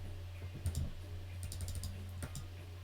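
A few faint clicks and taps on a computer keyboard and mouse while text is cut, scattered and quiet over a low steady hum.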